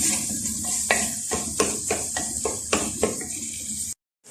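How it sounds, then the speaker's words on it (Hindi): Masala and tomatoes frying in a pan for a restaurant-style boneless chicken handi, a steady bright sizzle broken by several sharp spoon taps and stirring knocks, ending in an abrupt cut to silence. "अब इसके साथ हम इसकी भुनाई करेंगे जब तक कि टमाटर नरम नहीं पड़ेगा, जब तक ये मसाला भुनेगा।"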